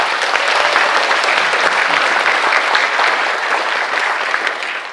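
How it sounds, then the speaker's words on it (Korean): Large audience applauding at a forum opening ceremony in Gyeongju after a welcome for a former UN Secretary-General, a loud, sustained wash of clapping from a hall full of people, unbroken throughout. "큰 박수 한번 보내주시죠."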